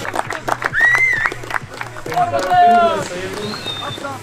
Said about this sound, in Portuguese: Grande salva de palmas aqui.